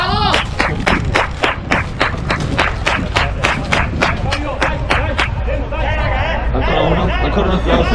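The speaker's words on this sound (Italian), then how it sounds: "Ancora un applauso" Spectators at an amateur Prima Categoria football match between San Giovanni and Isonzo clap in a quick, even rhythm for about five seconds, then the claps fade into loud crowd chatter and voices close by.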